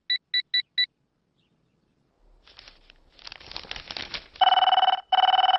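A telephone gives a quick burst of four short electronic beeps, then after a pause with rustling and movement it rings loudly in two long tonal trills close by.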